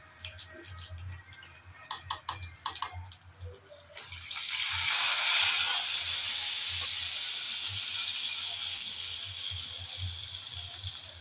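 Garlic, cumin and mustard seeds hitting hot oil set off a sudden loud, hissing sizzle that swells and holds steadily for several seconds, following a stretch of light clatter and handling sounds in the kitchen.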